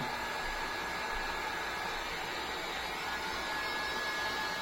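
A heat tool blows steadily to warm a Samsung Galaxy S10 during a glass and screen repair, a constant close whooshing hiss with no breaks and no voices.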